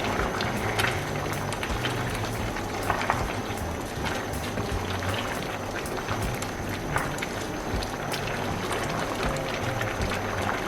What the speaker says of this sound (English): Then I'm gonna give it a nice stir.